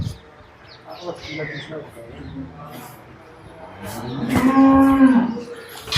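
A cow lets out a loud, drawn-out moo, close by, at a cattle sale. Someone talks steadily throughout, and faint bird chirps and crowd noise sit in the background.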